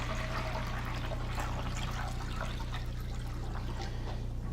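No-rinse sanitizer trickles and splashes out of a beer keg spigot into a bowl of utensils, a continuous close liquid stream over a low steady hum.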